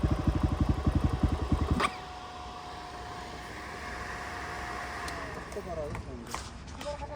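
A motorcycle on an off-road ride from Siklesh to Pokhara revs hard in quick rhythmic pulses for about two seconds, then settles into a lower, quieter running note with some shifting engine noise.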